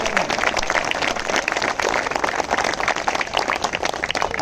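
Crowd applause at a protest gathering, a dense, rapid patter of many hands clapping at moderate loudness, continuous throughout with slight swells and no clear pauses.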